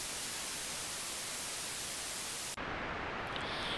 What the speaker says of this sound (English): The sample hold is receiving noise as an input. And again, I did talk about noise earlier in another episode. And noise just sounds like that.